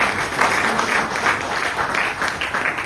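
An audience at a Tamil business seminar claps for a speaker, a dense, even wash of applause lasting the whole stretch.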